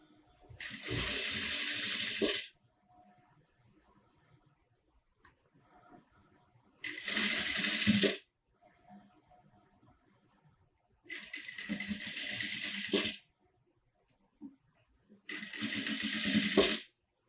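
A sewing machine stitches a ruffle skirt in four separate bursts of fast whirring, each lasting one to two seconds. Quiet gaps fall between the runs, and the machine is heard close and alone.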